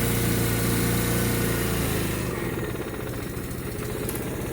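The engine of a 1990 Lincoln Town Car runs with the choke held open, a loud close steady drone with a rough pulsing beat that shifts slightly lower and choppier partway through.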